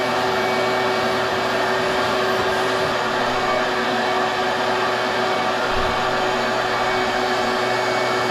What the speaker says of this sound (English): I vacuum the front porch every day.